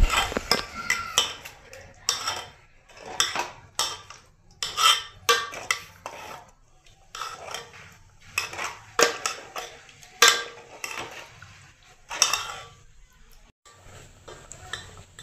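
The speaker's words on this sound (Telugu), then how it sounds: "ఇప్పుడు బాగా మిక్సీ చేసుకోవాలి" A spoon scrapes and clatters against a metal cooking pot as a mixture is stirred, with repeated irregular metallic strokes and short pauses between them. The sound is close and moderately loud.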